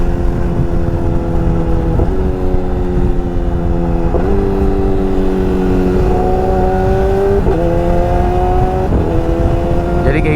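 Yamaha R6 600cc sport motorcycle engine idling unrevved, a loud, steady low rumble with a constant pitch and small periodic shifts, close to the mic and running throughout.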